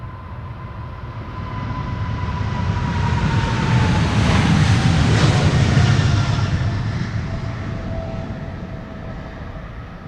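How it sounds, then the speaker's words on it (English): A KLM Boeing 777-200 airliner on flight 603 to LAX at Amsterdam Schiphol passes by: a broad jet roar swells over several seconds, peaks mid-way, then fades, heard from a distance with wind. "This is KLM flight 603 to LAX. It's a 777-200 the PHBQL."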